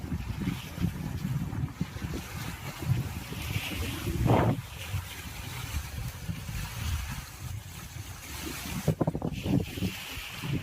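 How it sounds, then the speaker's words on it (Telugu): Strong wind at the Somasila reservoir buffets the microphone in loud, rumbling gusts, with a couple of sharper blasts and a constant roar of open water and waves behind. "అంతా గాలి మొత్తం"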